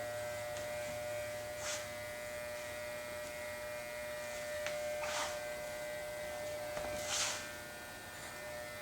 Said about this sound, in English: Let me shave all this wild stuff off.